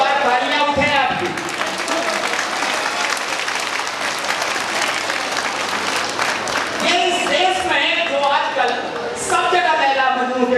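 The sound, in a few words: audience applause at a comedy show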